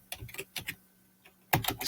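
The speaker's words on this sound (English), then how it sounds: "typing the person's name." Clicking keys on a computer keyboard as a name is typed into a post tag field, with short bursts of quick keystrokes, a pause, then a louder final flurry, close and alone.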